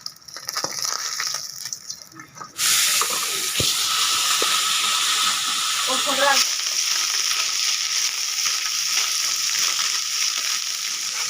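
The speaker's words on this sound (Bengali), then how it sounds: "এখন আমার মা দু নম্বর রাউন্ড মাছ ভাজছে" Steady loud sizzling of fish frying in hot oil, a few soft clinks and stirring sounds early on.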